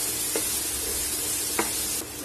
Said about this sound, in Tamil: இப்போ இந்த வெங்காயம், பூண்டு, பச்சை மிளகாவை எண்ணெயில சேர்த்துக்கலாம்.